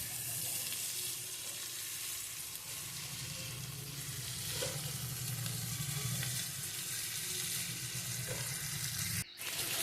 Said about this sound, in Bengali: এই থেতো করা শুটকি মাছ রান্নাটা একটু ভাজাটা বেশি করতে হবে খুব ভালো করে ভাজতে হবে